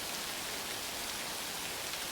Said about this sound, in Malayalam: പുറത്ത് നല്ല മഴയുണ്ടോ? നല്ല ശബ്ദം